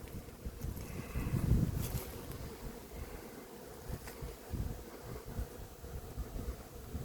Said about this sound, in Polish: Owady wszelkiej maści. Pszczoły, no to widać